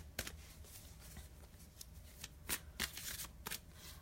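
Tarot cards shuffled and pulled from the deck, a quiet run of soft riffling and sharp flicks, with several crisp snaps standing out near the end, close and alone without talk.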